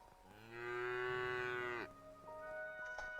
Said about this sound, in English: Level 4 cow.